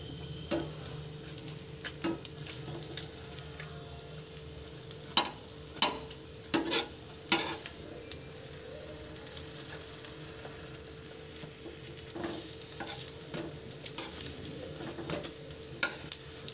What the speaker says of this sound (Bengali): একটু গ্যাসটা কম না করে ভাজলে না ভেতরটা একটু কাঁচা কাঁচা থেকে যায়